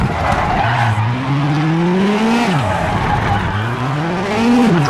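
A rally car in the WRC 8 game on a Portugal stage skids over gravel, with the engine note rising and falling through gear changes under a continuous gritty tire scrub, loud and close.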